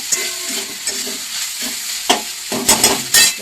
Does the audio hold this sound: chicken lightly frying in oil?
yes